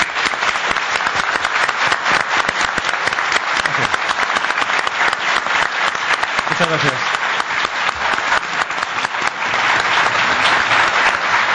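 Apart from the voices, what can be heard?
audience applause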